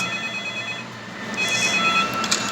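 A phone rings inside the Roblox video game, thin electronic ringtone notes holding steady, then a brighter burst of tones near the end over a low background hum.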